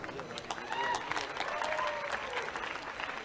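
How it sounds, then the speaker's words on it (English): A room of guests at the inauguration of a blind cricket T20 World Cup applauds with steady, moderately loud clapping for about three seconds, mixed with faint crowd murmur and scattered voices. "extending big thanks with a huge round of applause"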